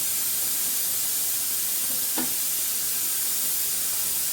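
A pressure cooker holding mutton in red gravy lets off steam in a continuous, even hiss that stays close and fairly loud throughout, with no voices.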